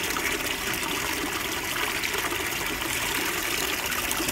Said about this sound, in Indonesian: Oke, keran terakhir kita buka